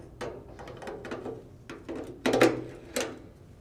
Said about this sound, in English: install the new TLED retrofit lamps into the existing sockets